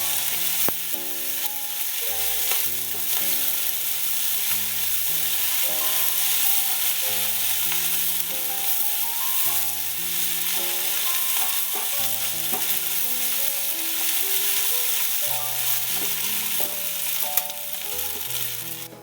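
Kimchi fried rice stir-fried in a pan gives a steady bright sizzle and scraping of stirring, running continuously under louder background music.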